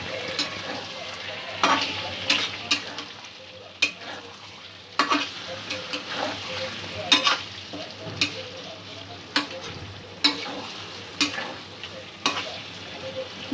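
Potatoes with spices and cashew paste for aloo dum frying in a pan, with a steady sizzle under repeated sharp clicks and scrapes of a spoon stirring at an uneven rhythm, close and fairly loud.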